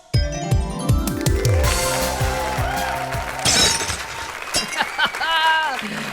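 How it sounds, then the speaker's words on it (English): A valuable figurine is smashed, loud glass or ceramic shattering with bright clinking fragments, followed by scattered tinkling debris and some voices reacting. "Smash my valuables!"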